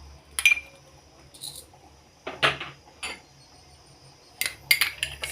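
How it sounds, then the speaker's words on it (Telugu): Coriander seeds, cumin, mustard seeds and fenugreek dry-roast in a pan, heard as sparse, faint spoon scrapes and metallic clinks. Quiet gaps separate the strokes, and no one talks. "ఆ మసాలాని వేయించుకుంటున్నాను."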